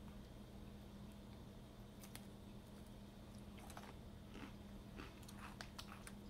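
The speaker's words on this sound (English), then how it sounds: "That's a nice crunch." Someone bites into a crunchy waffle-shaped butter cookie snack from a Korea and Mexico snack tasting, making several faint, crisp crunches and chewing clicks scattered over low room noise.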